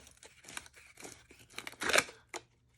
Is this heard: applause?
no